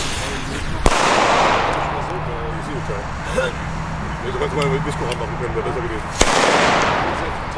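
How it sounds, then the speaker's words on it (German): A Verpufferfunke D firework goes off at a New Year's Eve celebration. A sharp bang is followed by a long hissing, crackling burst, and a second sharp crack comes near the end, loud and close outdoors. "Das war ein Verpufferfunke D."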